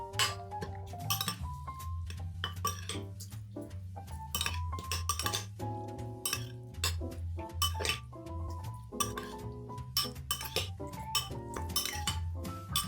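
A metal spoon stirs a Worcestershire and olive oil dressing in a glass bowl, ringing out in bright repeated clinks and scrapes against the sides, close and clear with no talking.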